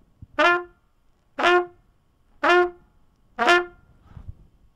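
Four separate trumpet notes, each cleanly tongued with a 'tut' for a short crisp attack, evenly spaced with brief silences between them, played close and alone.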